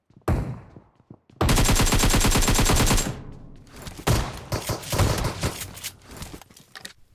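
Gunfire in the mobile battle-royale game PUBG Mobile: a short opening shot, then a long, loud, sustained burst of rapid automatic fire, followed by scattered shots and impacts.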